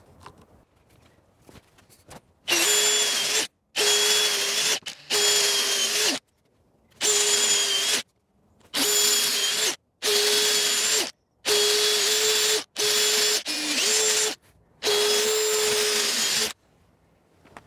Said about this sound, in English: Then we're going to counterbore the other side.